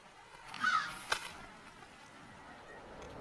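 A crow gives a single brief caw near the start, moderately far off against quiet outdoor ambience in bald eagle nesting country, followed by a sharp short snap.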